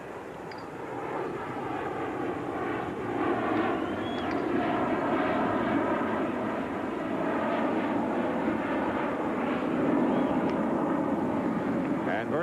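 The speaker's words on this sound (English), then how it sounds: "the airplanes have been flying now right over Shea for the better part of 5 hours" Airplanes flying low over Shea Stadium during a 1986 playoff baseball game, a sustained loud engine roar rising and swelling under continuous broadcast commentary.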